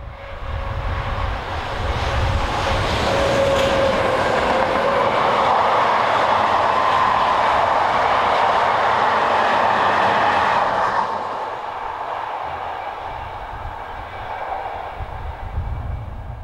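An SNCF BB15000 electric locomotive hauls a freight train past at close range, a loud sustained rumble and rolling wheel noise that eases slightly toward the end.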